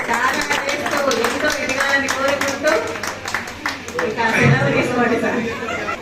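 Clapping from an audience at a spiritual meditation gathering rises under a speaking voice, with scattered claps and crowd chatter mixed in throughout.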